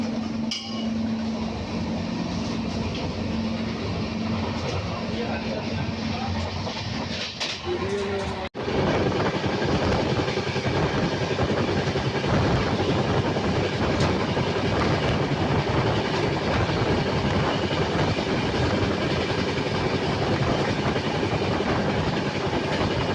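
A Yeshvantpur Superfast Express train runs on rails between Anantapur and Bangalore, giving a steady, loud rumble and rhythmic rail noise heard from aboard. A brief jolt or clunk sounds around the middle before the continuous roar resumes.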